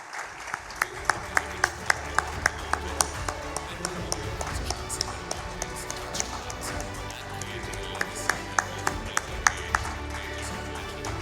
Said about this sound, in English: Let the applause keep coming